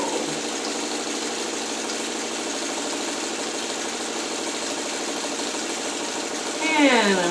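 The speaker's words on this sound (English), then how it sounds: "And I'm right back where I started, and I will backstitch." Close, steady rapid chatter of a sewing machine stitching a fabric appliqué circle, with a quick backstitch burst of faster, shifting whirring at the very end.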